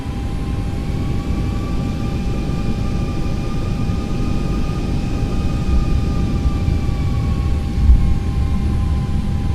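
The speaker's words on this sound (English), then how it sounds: "go ahead and taxi on to our runway" Boeing 737-800 in the X-Plane 11 flight simulator taxiing, giving a steady, loud jet engine roar with a low rumble and a thin sustained whine throughout.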